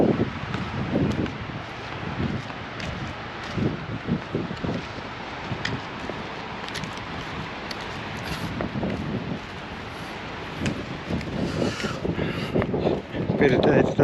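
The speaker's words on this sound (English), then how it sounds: "A bit more wind, but bluer skies." Wind blowing at Town Beach in Broome, a rough broadband rush buffeting the microphone in uneven gusts, swelling stronger toward the end.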